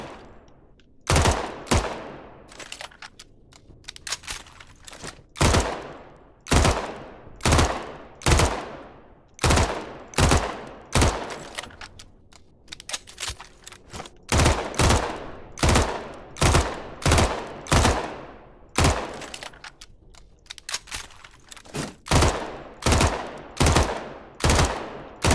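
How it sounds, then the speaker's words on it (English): M4 rifle fired in three-round bursts in the shooter game Badlanders, loud close clusters of sharp shots repeating in a steady rhythm with brief pauses between bursts throughout. "The 3-round burst is cool."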